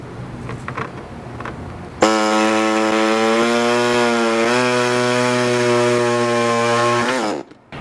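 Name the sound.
air saw cutting 4Runner body panel at wheel opening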